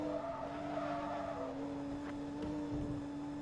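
Lotus Carlton tuned to about 500 horsepower driven in the racing game Forza Motorsport 2, engine droning steadily at close range while the tyres scrub and squeal through an unstable slide, with no one talking.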